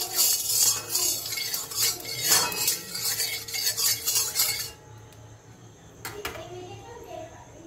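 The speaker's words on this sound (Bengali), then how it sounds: "আমি এবার সামান্য তেল দিয়ে দেবো। এবার নেড়ে দেবো ভালো করে," A spatula scrapes and stirs a little oil around a hot wok, brisk metallic scraping for several seconds, then a quieter stretch with a couple of clinks and some talking in the background.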